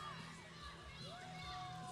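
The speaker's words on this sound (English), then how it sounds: "The crowd's cheering her" Spectators cheer and shout at a strongwoman event as a woman pulls a big truck by rope, a lively mix of voices and whoops from the crowd, moderately loud and continuous, with some talking mixed in.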